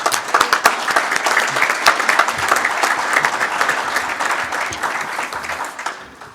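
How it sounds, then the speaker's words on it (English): An audience at a village State of the Village address applauds a former mayor, full sustained clapping that holds steady and then tapers off at the end. "Give her applause."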